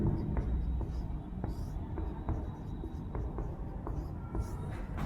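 Chalk or marker strokes on a board during a Hindi-language lecture in a classroom, a steady series of short scratchy taps over a constant background hum and room noise.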